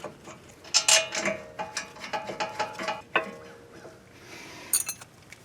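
Ratchet clicking while tightening the long rear brake caliper bolts on a 2017 Mazda 3 with electric parking brake, with close, quick bursts of metallic pawl clicks and occasional tool clinks, no talking.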